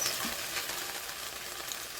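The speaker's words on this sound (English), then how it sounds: "Now to our sizzling oil" Continuous hissing sizzle of chopped mushrooms frying in hot oil, steady and close, with no voices.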